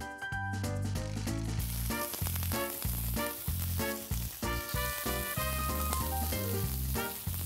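Halved tender spring onions sizzle and spit in a drop of extra virgin olive oil with salt on a hot teppanyaki griddle, a loud continuous fry with frequent sharp crackles and no voices.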